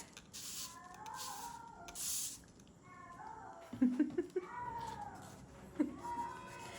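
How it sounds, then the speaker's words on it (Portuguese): A cat meows several times, with drawn-out, fairly loud cries separated by short pauses, over a low background rustle. "Olha como ele tá miando alto."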